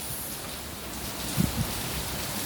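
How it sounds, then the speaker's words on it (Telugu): Heavy rain falls as a steady, fairly faint wash of hiss, with a couple of brief low thumps near the middle. "మొత్తం వర్షం కొడుతుంది."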